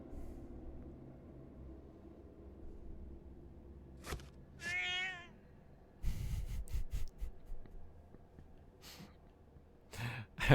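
Video game cat meowing once, clear and fairly close, in a quiet scene with soft breathing and rustling before and some clicks and shuffling afterward.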